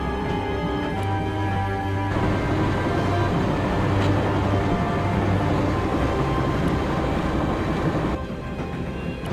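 A train rolls steadily along its tracks in the Broken Sword point-and-click adventure game, a continuous low rumble and rattle with faint clacks that holds at an even level throughout, with no voices.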